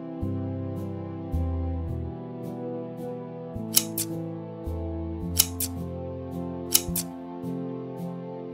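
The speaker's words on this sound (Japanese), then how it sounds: "再び半分に折り、ハサミで切っていきます。" Scissors snip through sheer cafe curtain fabric in a few sharp, close cuts spaced a second or more apart, over a steady low background hum, no talking.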